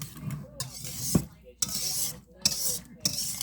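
Butter being stirred into a broccoli rice casserole, with repeated scraping and clinking of a utensil against the dish in short bursts, close up and moderately loud.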